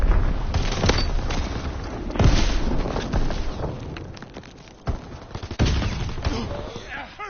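Dense gunfire in the World War II shooter Call of Duty WW2, with rapid bursts, heavy booms and explosions rolling continuously throughout, loud and close, mixed with game voices.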